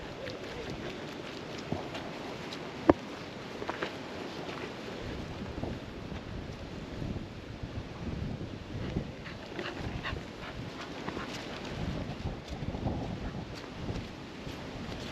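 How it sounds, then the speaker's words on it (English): Gusty wind on a sunny coastal walking path near Bouley Bay, Jersey, buffeting the microphone in a steady, uneven rush of low roar and swells, with a dog, Paddy, whimpering and moving nearby. "Right, it's windy,"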